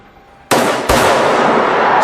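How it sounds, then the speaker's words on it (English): Loud gunshots burst out in a zombie-filled hospital, a sharp blast followed by a second crack that rolls into a sustained roar of fire and echo, with no talking. "Gunshots ring out."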